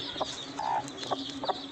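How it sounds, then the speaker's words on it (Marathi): A village hen, watchful over her chicks, gives a few short, soft clucks in quick succession against quiet farmyard background noise. "कोंबड्या पण एकदम सावध"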